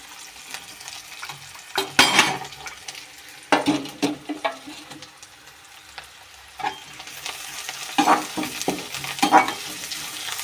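Garlic fries in a pan while a cluster bean stir-fry is cooked, giving a close sizzle with irregular crackles and a few scraping stirs, unaccompanied by speech.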